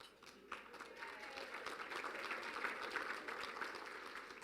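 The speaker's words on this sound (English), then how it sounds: "Please hold your applause." Sustained audience applause fills a room at an Armed Forces Day luncheon in Ohio, a steady wash of many hands clapping at moderate level without a break.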